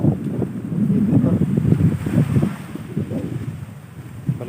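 Strong gusty wind buffets the microphone at the seashore, a loud, rough rumble that swells and eases, with possible surf underneath and no voices.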